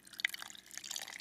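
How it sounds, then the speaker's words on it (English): A cold drink being poured into a tumbler: a faint, brief trickle of liquid with a small drip near the start, heard alone and quiet. "That was me pouring it into a tumbler."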